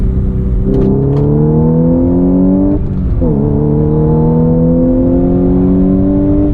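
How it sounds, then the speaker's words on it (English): An Audi S5 B8.5 engine revs loudly as it accelerates, rising in pitch, dropping briefly at a gear shift, then climbing again, heard from inside. "I definitely like the engine noise"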